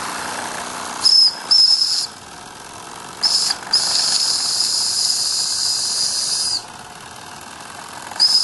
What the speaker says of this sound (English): When the pressure gets too high in the boiler, the safety valve will open like this